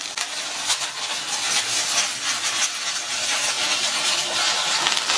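Okra sautés in oil in a pan, giving a loud, continuous sizzling hiss with light crackle throughout and no one speaking.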